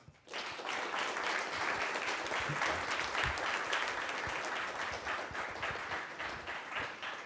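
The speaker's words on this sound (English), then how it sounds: "let's give him another round of applause" After a mathematics talk, the audience breaks into applause that starts abruptly and holds as a full, even burst of clapping, fairly quiet and without speech.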